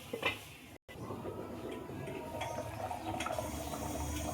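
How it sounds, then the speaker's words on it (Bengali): Water is poured into a pot of chicken with papaya and potato for a thin curry, making a steady, close splashing rush that continues without speech. "এবার আমি দিয়ে দেবো জল।"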